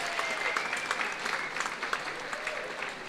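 Crowd applause at a charity dinner dance for cancer research, greeting the band; many hands clap in a steady, moderately distant roar with a few voices audible within it.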